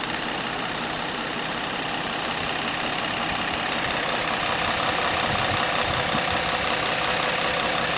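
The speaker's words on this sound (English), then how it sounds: "All right, here's the engine. Nice and smooth, very quiet, very comfortable vehicle here" A 2016 Ford Explorer Police Interceptor with a 3.7 engine and AWD idles steadily, a smooth, even hum heard close up with no talk over it.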